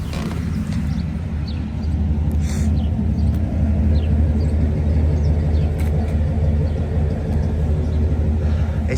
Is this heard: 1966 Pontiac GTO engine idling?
yes